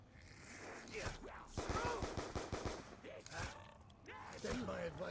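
Bursts of AK rifle fire in a video game rattle out in rapid volleys, with a dense string of shots near the middle, while someone talks over the action.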